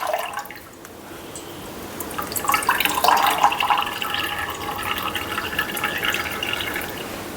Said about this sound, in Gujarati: એમાં જે પણ એક્સ્ટ્રા પાણી હોય તેને આ રીતે દબાવીને કાઢી લઈશું.